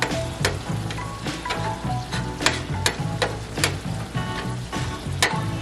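Ground beef sizzles and crackles steadily in a pan while being cooked down for canning as taco meat, with occasional sharper pops and stirring clatter over a continuous frying hiss, close and alone.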